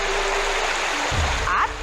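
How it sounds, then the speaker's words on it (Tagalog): Water flowing along an irrigation canal in Dingras, Ilocos Norte, a steady broadband rush close by, with a brief splashy burst near the end and some low rumble underneath. "at malinis ang tubig na umaagos sa halos kalahating kilometrong irrigation canal na ito sa Dingras sa Ilocos Norte"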